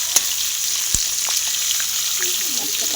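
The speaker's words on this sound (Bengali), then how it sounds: "হালকা করে ভাজবো মাছগুলো" Fish frying lightly in a pan over a raised gas flame, a steady close hiss of sizzling oil with a few sharp pops and spatters.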